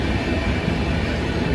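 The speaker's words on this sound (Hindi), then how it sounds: "ये थी मेरी अजमेर जंक्शन तक जाने वाली ट्रेन, जो मेरे बैठने के 2-4 मिनट बाद ही स्टार्ट हो गई" Passenger train bound for Ajmer Junction, heard from inside a carriage as a loud, steady rumble with low clattering from the wheels and track, and no talking.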